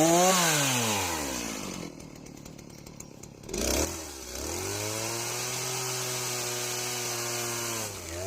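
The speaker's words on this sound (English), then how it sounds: "Freehand ripping logs in half, or ripping them in half with a chainsaw mill" A chainsaw fitted with a chainsaw mill rips a log lengthwise, its engine revving up, dropping briefly, then holding a loud steady high whine while cutting through wood, close by and alone.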